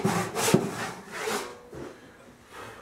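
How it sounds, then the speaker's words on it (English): A handsaw rasps back and forth through cherry wood in several quick strokes, sawing away the waist of a table leg, close and fairly loud, with no talking. "use a handsaw to take the bulk of this material off"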